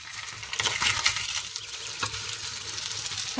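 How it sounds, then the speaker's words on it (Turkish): Beef sears in hot oil with a steady crackling sizzle, spiked by a few sharper pops and spits, close up with no voices over it. "Kızgın yağda kızdırıp mühürleyeceğim."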